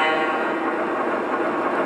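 A steady, continuous whooshing hiss with a faint mechanical hum, like fuel pouring from a model locomotive tender, holding evenly throughout with no pauses.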